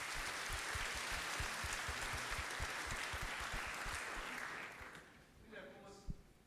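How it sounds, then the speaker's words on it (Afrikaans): A church congregation applauds during a Sunday morning service, a steady dense clapping that fills most of the clip before thinning out and fading near the end. "Kom ons gee net vir oom Frikkie 'n lekker hande klap"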